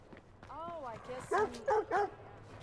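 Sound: dog barking in video game Watch Dogs 2

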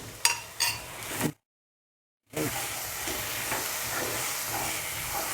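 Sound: sautéing spice masala with coriander powder, adding water

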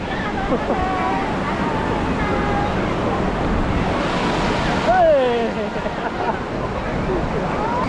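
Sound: sea waves and wind at Qingdao beach, China

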